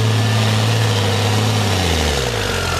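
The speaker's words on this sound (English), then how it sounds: "And here is Rick Romanini back out with that big tractor-tired, diesel-powered Johnny Law mud bogger" The diesel engine of a big tractor-tired mud bogger truck rumbles loud and close at an off-road truck show, a deep steady drone whose pitch sags and wavers partway through as if the engine bogs down, with no talking.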